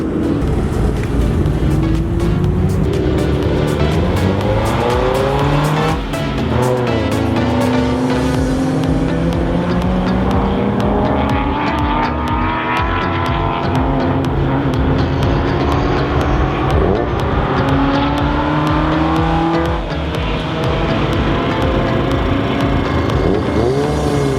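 Honda Civic EK race car on an autocross course, its engine droning loud and continuous throughout, rising and falling in pitch with repeated shifts and throttle changes as it works through the course, with no talk.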